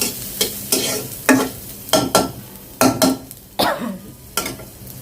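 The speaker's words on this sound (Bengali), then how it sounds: "রসুনটা একটু ব্রাউন করে ভেজে নেব" Garlic browning in a little oil in a pan, a soft continuous sizzle broken by repeated sharp utensil scrapes and knocks against the pan at a roughly regular pace, close and clear, no talking.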